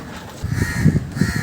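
Crows cawing nearby in an outdoor spot, several harsh caws in quick irregular succession standing clearly above a quiet background.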